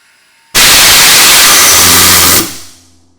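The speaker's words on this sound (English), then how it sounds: "we will now increase the pressure in the vessel again, and only the valve on the right will open and flow" An Anderson Greenwood safety valve on a pressurized vessel pops open with a sudden loud roar of venting gas, a harsh steady hiss for about two seconds before tapering off quickly into a faint ringing tail.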